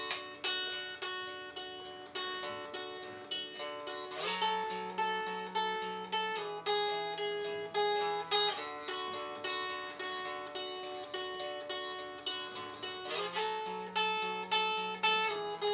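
Clean electric guitar with no effects plays the intro to a song at a slowed pace, a steady run of picked, ringing notes repeating in an even rhythm, alone and close.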